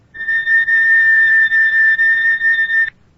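A steady, loud high-pitched oscillator tone near 4,000 cycles per second sounds alone for close to three seconds, holding an even pitch with a faint overtone above, then cuts off sharply.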